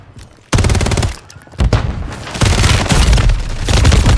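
Rapid gunfire bursts from a battle royale video game, loud and close, with a short pause near the start and then near-continuous automatic shooting with heavy booming low end.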